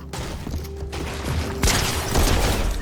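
Weapon reload in Fortnite, with mechanical clicks and metallic clatter of a gun being worked, over busy game noise that swells into a louder burst partway through, close and without speech.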